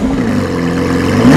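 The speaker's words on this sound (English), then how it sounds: "this has to be one of the very coolest exhausts in the entire car industry. And of course, it sounds pretty good too." The exhaust of a Lamborghini Aventador SVJ revs loud and close in a short, deep engine roar that swells slightly toward the end, with no voices.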